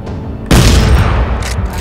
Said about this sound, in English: Now I've got a machine gun and a shotgun.